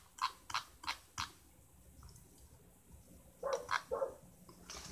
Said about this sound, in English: My stupid little dog outside barking.